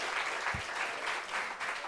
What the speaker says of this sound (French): Applaudissements pour ça, applaudissements pour ça.